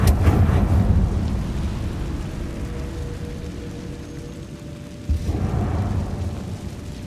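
A Confringo blasting spell explodes in Hogwarts Legacy with a heavy, rumbling boom that slowly fades into a low roar, followed by a second thud and swell of rumble near the end.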